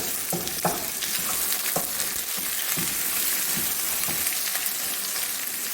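Garlic, onion and ginger fry in hot oil in a pan with a steady, close sizzle and occasional stirring scrapes and clicks, without any talking.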